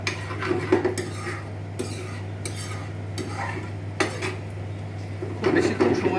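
Crab cooks in a pan while it is stirred, with repeated metal scrapes and clinks of a utensil against the pan over a steady low hum and faint sizzle, close up.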